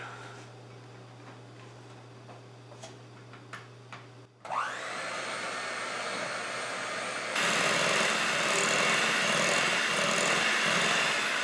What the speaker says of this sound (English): We're going to cream this together with our hand mixer or your stand mixer until it's mixed all well together.